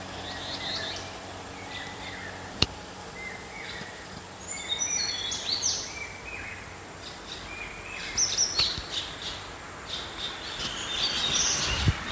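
Birds chirp and call in green countryside after rain, scattered light tweets rising and falling over a steady outdoor ambience, with a couple of sharp knocks.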